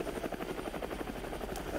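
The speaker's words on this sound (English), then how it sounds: "I do hear a helicopter." A helicopter flies overhead, its steady rotor thump loud and continuous throughout with no other sounds.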